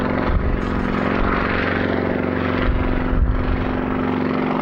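Aircraft engine drone from a plane flying an aerobatic airshow display in Jersey, a loud, steady, sustained roar with a rising and falling tone, heard from the ground.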